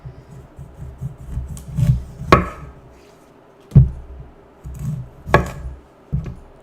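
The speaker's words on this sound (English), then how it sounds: "And then I'm gonna cut it into wedges." A knife cuts peeled kohlrabi into wedges on a board. Sharp, distinct chops and slices fall in irregular strokes, with softer rasping scrapes between them, close and without talk.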